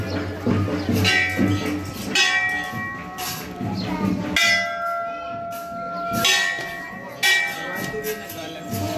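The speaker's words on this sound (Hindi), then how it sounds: "पहले बजाएंगे घंटा।" A metal temple bell at Daadh Devi temple in Kota, struck several times, each ring leaving a bright tone that slowly fades, amid voices and background crowd noise.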